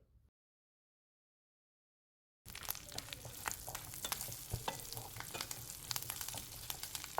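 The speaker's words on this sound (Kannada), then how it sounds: "ಒಂದು ಸ್ವಲ್ಪ ಗೋಡಂಬಿ ಹಾಕಿ ಸ್ವಲ್ಪ ಗೋಲ್ಡನ್ ಬ್ರೌನ್ ಆಗೋವರೆಗೂ ಹುರಿದಿಟ್ಕೋಬೇಕು" Cashews, curry leaves and cumin frying in a pan for a Madras ven pongal tempering: after about two seconds of silence, a loud, busy crackling sizzle starts and keeps popping close up until the end.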